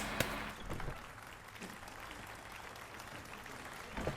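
A crowd in The Witcher 3 applauds, a quiet, steady wash of clapping from a modest group heard at a distance, with no talking.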